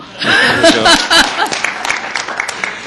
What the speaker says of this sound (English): So many as favor the motion, clap.